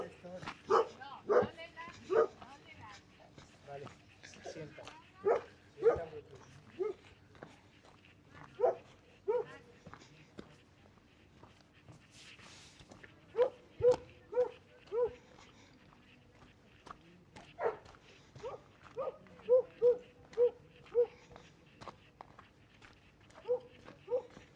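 Dogs with walkers at a popular morning walking spot in Ibiza bark in repeated short bursts, moderately near, with some yips and whimpers mixed in and people talking over them.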